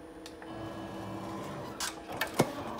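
An embroidery machine stitches a tack-down line for a puffy ear design, giving a steady mechanical whirring hum dotted with small ticks and a few sharper clicks near the end, with no talking.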